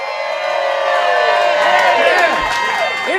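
A crowd at a live show in a bar cheers and whoops loudly and continuously, many voices shouting together with a few higher yells rising above the roar.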